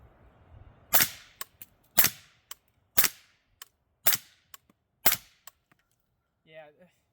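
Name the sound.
suppressed Noveske 10.5 300 Blackout rifle firing Ammo Inc 220 grain rounds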